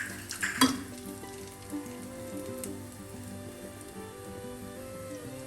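Whole spices such as cinnamon, cloves, cardamom, fennel, bay leaves and star anise sizzle in hot coconut oil for a Kerala chicken curry, with a sharp burst as they hit the pan, then a steady crackling fry and light stirring.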